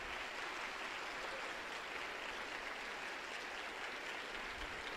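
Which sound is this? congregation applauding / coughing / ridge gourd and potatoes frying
congregation applauding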